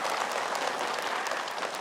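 An audience at an Islamic religious talk show claps in a dense, steady burst of applause that fills the room evenly.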